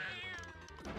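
Cat yowling sound effect from the video game Pokemon Puzzle League, a loud, strained, wavering meow that holds steadily for about a second with no talk over it.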